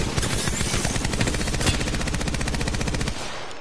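Loud, steady automatic gunfire from a shooter game, a rapid unbroken stream of evenly spaced shots that runs close and dense for about three seconds before cutting off abruptly.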